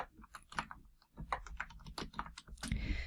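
Someone types a search on a computer keyboard: a quick, close run of clicking keystrokes with uneven rhythm and no talking.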